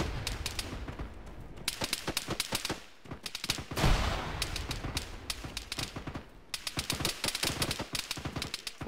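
Rapid bursts of automatic rifle and machine-gun fire in the Arma 3 military shooter, dense crackling volleys with brief lulls around the middle, loud and close with no talk.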